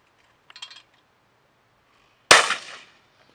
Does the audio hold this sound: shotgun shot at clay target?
yes